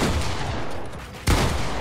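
A gunshot rings out in a console shooter, a single loud, sharp blast over constant noisy game ambience.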